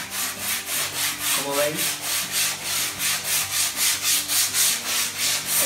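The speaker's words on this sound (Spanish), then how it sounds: "Con un papel de lija fino, como este, de gramaje fino" Edges of a cardboard kitchen pantry door sanded by hand with fine sandpaper, a loud rhythmic back-and-forth rasp repeating about every third of a second, with a brief spoken aside partway through.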